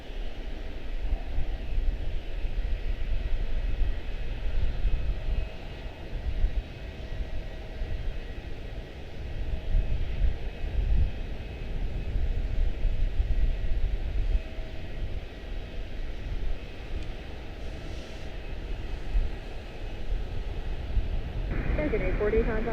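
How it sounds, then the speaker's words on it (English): A Cessna 310R twin at Charlotte-Douglas airport gives a steady, continuous engine drone that stays loud and even throughout, with a broad low rumble and a faint tonal hum above it. "That was a Cessna"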